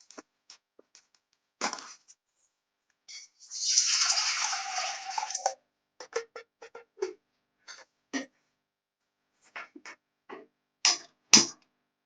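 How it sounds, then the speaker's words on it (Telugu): Half a liter of water poured into a cooking pot in a kitchen, a short splashing gush lasting about two seconds, surrounded by scattered clinks and small handling sounds in otherwise quiet surroundings. "నేను 1/2 లీటర్ పోస్తున్నాను"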